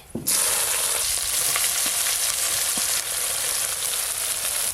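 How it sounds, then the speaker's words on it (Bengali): Bay leaf, dried chili and chopped onion frying in hot oil, a loud, steady sizzle that erupts as they hit the pan and then holds, with a few soft stirring knocks and no talk. "ফোড়নে তেজপাতা, শুকনো লঙ্কা দেব, পেঁয়াজ কুচি"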